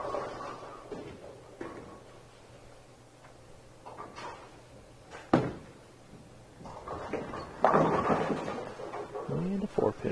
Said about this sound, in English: Oh, that's definitely thunder.